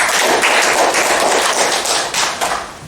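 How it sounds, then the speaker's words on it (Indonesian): Classroom applause for a student after a geography class presentation, a dense, steady patter of many hands clapping up close for about three seconds, easing slightly toward the end with no talk. "berikan tepuk tangan"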